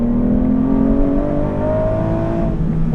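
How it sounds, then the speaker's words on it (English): The manual V12 engine of an Aston Martin V12 Vantage S, heard from the cabin as a loud, continuous rich drone whose pitch drifts upward gently with the revs. "What doesn't get old is the engine, which is insane."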